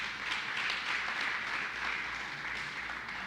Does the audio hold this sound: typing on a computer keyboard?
no